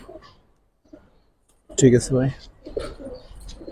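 Pigeons in a loft coo in low, rolling calls, with a voice speaking briefly amid the birds and quiet gaps between sounds.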